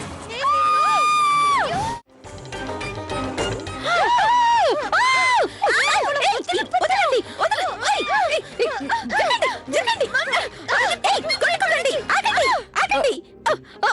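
Several voices shout and yell excitedly over one another, loud and close, with brief pauses between bursts.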